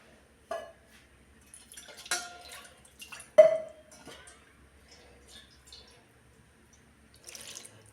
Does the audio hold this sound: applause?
no